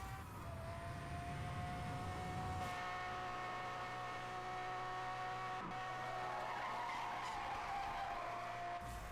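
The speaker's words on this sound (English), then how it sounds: "I did braking drift that one." Tyre skid and screech from a car braking into a drift in Need for Speed Hot Pursuit Remastered, a sustained squeal over steady engine roar lasting the whole stretch, loud and continuous with no talk.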